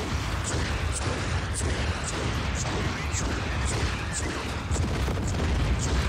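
Dense, continuous booming and rumbling from rocket and missile blasts in Just Cause 4 under a steady layer of game noise, with faint repeated pops throughout and no clear standalone voice.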